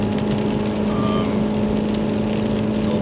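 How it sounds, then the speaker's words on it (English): A Mercedes W201 190D diesel engine drones steadily and loudly from inside the car while driving, a constant low rumble with a rough, noisy edge and no pauses. "The engine is yeah, revving with quite some noise"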